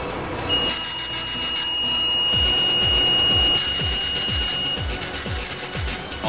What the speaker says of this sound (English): When you proceed to monitoring mode, you will get the alarm of low speed.